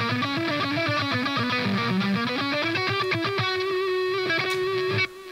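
Mixed music track with a final delay effect applied: distorted, sustained tones with rhythmic hits and echoing repeats, played alone without talking and cutting off abruptly at the end.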